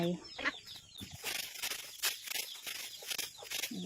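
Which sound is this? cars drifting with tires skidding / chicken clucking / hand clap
chicken clucking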